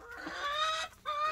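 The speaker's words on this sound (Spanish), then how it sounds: "Estamos cuidando a los gallos, gallinas." Roosters and hens on a farm give a brief, close bout of clucking, with a sustained tonal call, a short pause, then another call.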